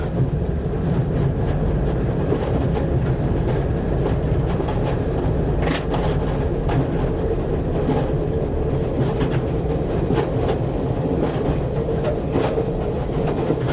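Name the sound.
train running on the Looe to Liskeard railway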